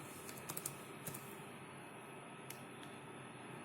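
Soft, sparse keystrokes on a computer keyboard while C code is typed, a few faint taps scattered over a steady background hiss.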